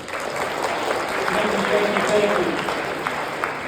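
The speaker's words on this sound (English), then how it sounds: "Round of applause for Mr. Porter" Senior students at a class meeting applaud for Mr. Porter, a dense wash of clapping and crowd noise, with a brief spoken thanks over it.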